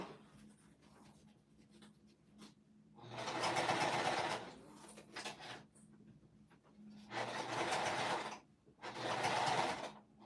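A sewing machine stitches through thick seams of a pouch reinforced with fusible fleece, running in three steady bursts with quiet pauses between them, fairly close and with no talk.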